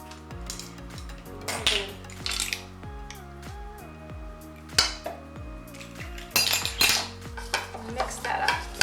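Sour cream, granulated sweetener and vanilla stirred together for a cheesecake topping, a utensil scraping and clinking steadily against the bowl in close, repeated strokes with louder bursts near the end.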